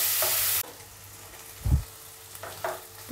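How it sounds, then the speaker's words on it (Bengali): Paneer cubes fry in hot oil: a loud sizzle bursts at the start, then drops to a low steady crackle with a few stirring knocks and scrapes, and no voices. "পনিরগুলোকে একটু লাল লাল করে ভেজে নিতে হবে।"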